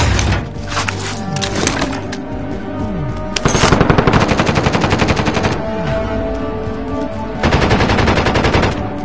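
Sustained automatic gunfire from a video game, with rapid bursts of rattling shots, loud and close, continuing almost without pause and rising in intensity at several points.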